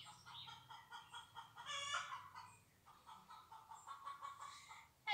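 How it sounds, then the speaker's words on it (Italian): Hen clucking rapidly in repeated bursts after laying an egg, moderately loud, with a louder squawking phrase near the middle, heard outdoors with no talk over it. "Magari potete sentire la gallina che fa l'uovo."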